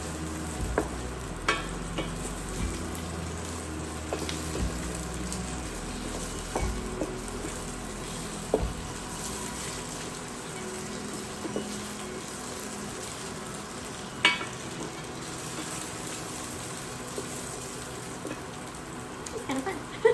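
Tofu sautés in a pan until golden, a faint steady sizzle with occasional scraping stirs and utensil clicks scattered throughout.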